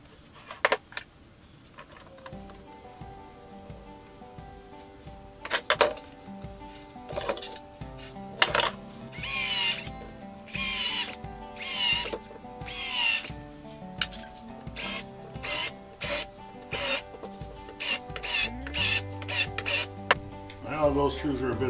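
Power drill driving deck screws into a wooden backer block for a windmill build, several bursts of whirring drill motor interspersed with clinks and clatter of tools and hardware.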